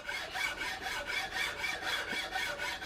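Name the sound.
fine file on a cherry wood flintlock rifle stock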